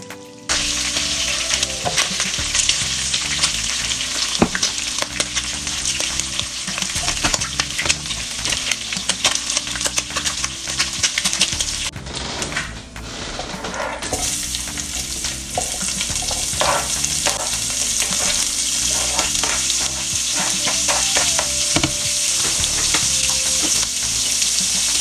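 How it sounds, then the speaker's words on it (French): Condiments fry in a pan for a beef-in-cream dish, giving a loud, continuous close-up sizzle with scraping stirs throughout and no talk. "passer à la prochaine étape qui est la friture des condiments."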